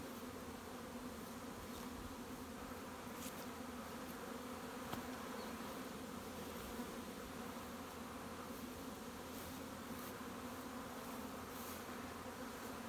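Bees hum in a steady, dense drone around the hives in a beeyard, with occasional closer buzzes passing by.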